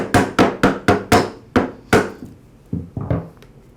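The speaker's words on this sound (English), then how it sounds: "I'll tap the spool onto the nut" The outer spool of a Ryobi trimmer is tapped onto the shaft nut with a series of about a dozen sharp, close knocks in an uneven rhythm, loud at first and softer toward the end.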